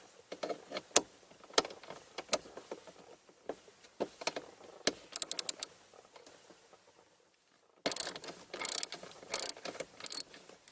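Ratchet clicks in quick bursts as a wrench breaks loose the 8mm glove box bolts inside a Honda CR-V, close and fairly faint, with a short pause before a louder run of clicking.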